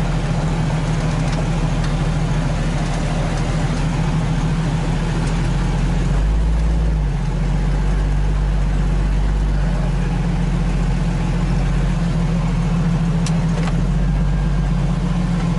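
A Jeep engine running in freezing cold while in reverse, a loud, steady low rumble with a slight change in pitch partway through, and no speech.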